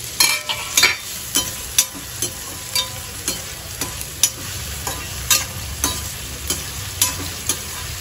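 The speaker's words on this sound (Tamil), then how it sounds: "வெங்காயம் கொஞ்சம் வதங்கின உடனே தக்காளியும் போட்டு" Onion and tomato sautéing in a pan for a spicy tamarind curry, a steady sizzle broken by regular sharp scrapes of a spoon stirring, close and with no voices.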